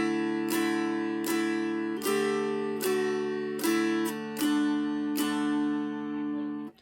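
A mountain dulcimer plays a simple melody phrase of Go Tell Aunt Rhody as a steady series of about seven plucked notes, each ringing over a continuous drone, clear and close with no talking.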